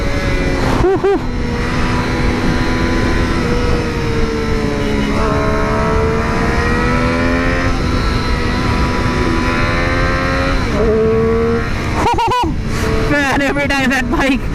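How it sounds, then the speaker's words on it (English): A Triumph Street Triple RS motorcycle being ridden, its engine and intake droning steadily with rising and falling revs and sharp throttle blips near the end. Wind noise runs throughout, and a rider's voice can be heard over the engine. "every time that bike takes in, I'm like, the intake is so damn amazing"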